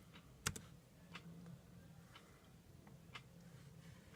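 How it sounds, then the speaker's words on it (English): Quiet keystrokes on a keyboard tap out a search entry: a few sparse, separate clicks with one sharper knock near the start, over a low background hum. "on the search bar type in"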